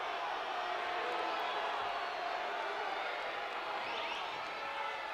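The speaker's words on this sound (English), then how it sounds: "Seems like this crowd really wants a stall call here" A college wrestling crowd at a Nebraska versus North Carolina dual meet roars steadily and loudly throughout, calling for a stalling call, with scattered shouts and whoops in the dense, continuous noise.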